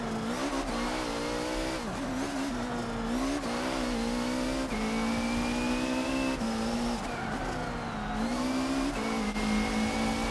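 Race car engine in Forza Motorsport 7 screams steadily at high revs through a lap, pitch dipping and climbing with gear shifts and corners, with tire squeal and scraping mixed in, loud and continuous with no talk.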